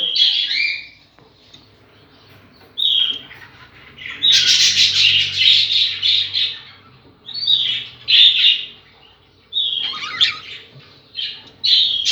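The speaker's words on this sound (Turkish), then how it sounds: "Bakın arkadaşlar bunlar da benim kendi kuşlarım." Pet budgies, young birds from show stock, squawk and chirp close by in repeated short bursts with a longer chattering stretch in the middle, and no talk.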